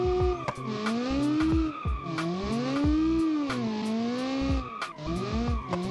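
A car drifting in the BeamNG driving game, its tires squealing in long, wavering, high-pitched wails that bend up and down, over a low engine rumble and sharp intermittent clicks, loud and close.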